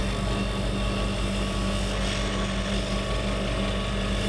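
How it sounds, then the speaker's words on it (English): Drill press running a sanding spindle against bandsawn wood edges of a cigar box guitar body, a steady loud motor whir with a low hum lasting throughout, no voices. "I'll clean up those edges using a sanding spindle in my drill press."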